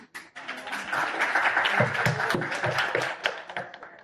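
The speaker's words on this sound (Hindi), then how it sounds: "ये जो तालियां भी बजा रहे हैं" Scattered clapping from an audience at a gathering, steady for about four seconds with uneven taps and a faint voice underneath.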